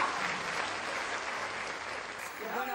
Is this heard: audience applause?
yes